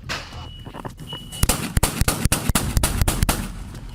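A rapid string of loud, sharp gunshots from a fully automatic handgun cracks out in quick succession after a quieter start, close and echoing.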